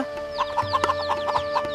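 Hens cluck in a quick series of short, close, repeated notes over a steady hum.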